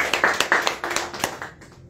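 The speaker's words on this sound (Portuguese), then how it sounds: "Amém. Aplausos." Short burst of hand clapping from a church congregation, a dozen or so distinct claps fading quickly within two seconds, fairly close and moderate in volume.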